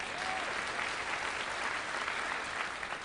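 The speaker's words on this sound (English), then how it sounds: "can we give a round of applause for Rosanne?" An audience claps steadily for a speaker's guest, a dense, even wash of applause heard at a moderate distance with no voices over it.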